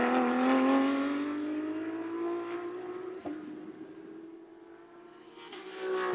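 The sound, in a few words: Porsche 911 GT3 race cars engine rasp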